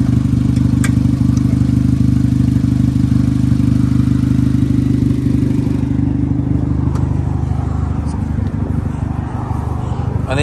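The 1.8 liter four-cylinder engine of a 2005 Pontiac Vibe runs under an open hood. It makes a loud, steady low rumble that continues throughout with no change in pace.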